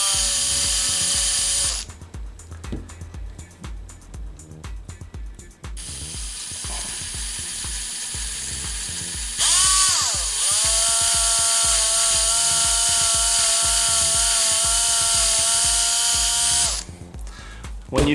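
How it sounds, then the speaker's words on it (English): A power drill slowly drills out a rivet, running in steady whirring stretches with rattling, ratcheting mechanical noise between them, fairly loud and close with no talking. "you can put it in a drill and go really slowly"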